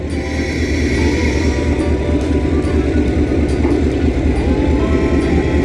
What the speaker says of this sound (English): he'll be operating our 25 horsepower electric motor here directly under the operator's shed